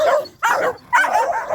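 Three small dogs barking and whimpering close by in short, excited yips and whines, coming in three bursts separated by brief pauses.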